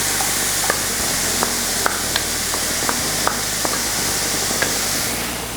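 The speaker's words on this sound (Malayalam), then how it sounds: "ആപ്പിൾ, അതുപോലെ ഡേറ്റ്സ് എല്ലാം ഇതിലേക്ക് ചേർത്ത് ഇളക്കി കൊടുക്കാം" Chopped apple and dates are stirred into a sweet filling frying in a pan, a steady close sizzle punctuated by regular light taps of a spoon against the pan, no talking.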